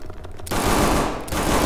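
Rapid automatic gunfire in a video game bursts in after a short pause, a dense, loud, continuous rattle of shots with a brief dip midway.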